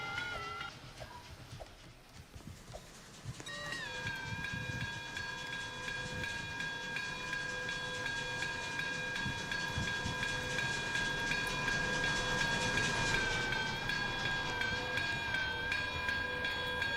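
A textbook train from OKKO runs in a Roblox game, giving a loud sustained whistle-like horn chord over steady rumbling wheel noise, holding for many seconds and swelling slightly toward the end.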